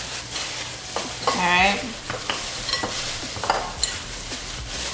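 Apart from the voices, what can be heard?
mixing short ribs with pepper, salt and bacon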